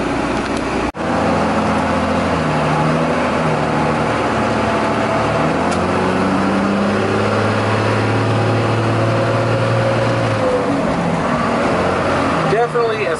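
A miniature Peterbilt-style diesel semi truck pickup, the Lil Trucks Baby Pete, drives close by, its engine tone rising and falling through gear changes as the turbo spools, loud and steady for the whole stretch.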